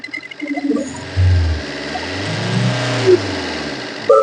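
A used car's engine revs close by in a few short bursts, a low growl swelling and easing over a couple of seconds with faint background noise.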